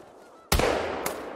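A sudden loud burst from the goose-hunting game theHunter: Call of the Wild, with a second sharp hit about half a second later, loud and close.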